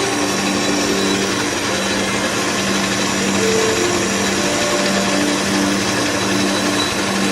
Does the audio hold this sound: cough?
no